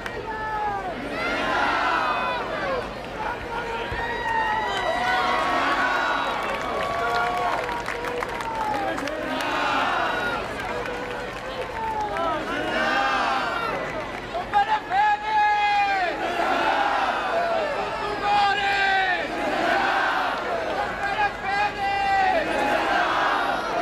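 Large crowd at the Sunday procession of the Vara, a dense continuous roar of many voices with shouts, cheers and singing-like chants rising and falling throughout, steady and loud with no pauses.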